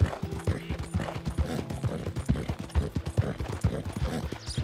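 Steady clip-clop of horse hooves at a trot in Red Dead Redemption 2, the rhythmic beats close and clear over a faint gear-like rattle, with no talk.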